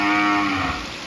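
Cows mooing close by in an open-air rural setting, one long, loud, drawn-out low moo that holds steady and slowly fades, with no talk over it.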